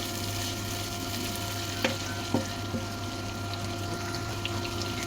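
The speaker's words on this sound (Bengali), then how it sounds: "সবকিছু আমি একটু ভাজা ভাজা করে নিব।" Chopped onion, tomato and green chili fry in oil in a wok with a steady hiss and sizzle under a low hum, a few soft knocks from stirring, and no talking.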